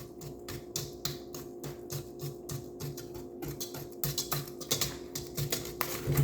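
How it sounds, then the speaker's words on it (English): Whisk rattling quickly around a bowl of oatmeal cream pie batter, rapid close clicking taps in a steady rhythm that grows louder and busier toward the end, no speech. "so then I'm just going to whisk everything together."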